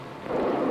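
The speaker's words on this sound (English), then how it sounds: "Let's get you out of this rain." Steady rain falls outdoors, a dense broadband hiss that swells louder partway through and holds, with no voices.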